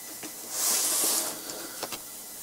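Steam iron hissing in a broad burst while pressing a sewn seam on a home sewing project, followed by a few faint soft thumps and clicks.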